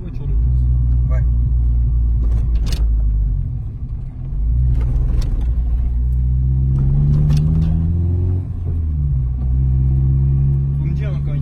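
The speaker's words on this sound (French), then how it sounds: "Pour un 4 cylindres, en tout cas, ça fait un bruit un peu voiture de course." A four-cylinder VTEC car engine rumbles steadily, then revs upward with a rising racy pitch before settling, heard up close while people talk over it.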